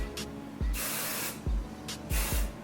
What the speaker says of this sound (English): I will just spray.